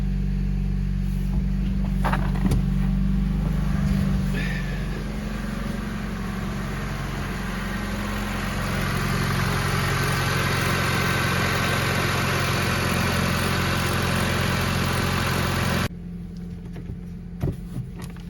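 A Honda Civic engine idles steadily just after a clutch install, a constant low rumble heard close up. A brief change partway through is followed by a sudden drop near the end, and nobody speaks.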